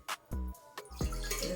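Marinated chicken is washed with water, heard as a few short, close splashes and drips in quick bursts over little more than a second.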